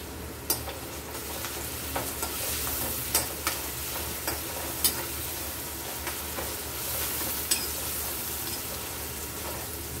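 Curry leaves and coriander fry in a pan for mutton curry, giving a constant close sizzle with a few sharp crackles and pops, and no talk over it.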